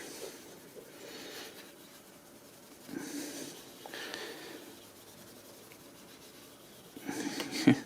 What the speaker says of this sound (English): Rub a little petroleum jelly on here.